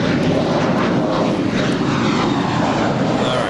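An airliner taking off from runway 25 right at Los Angeles International Airport (LAX): a loud, sustained engine roar rumbling steadily throughout, heard without any voices.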